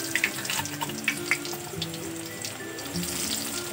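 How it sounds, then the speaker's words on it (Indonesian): Tempeh fries in hot oil in a pan, giving a continuous crackling sizzle broken by scattered sharp pops and spits. No one speaks over it. "Kita goreng dulu tempenya."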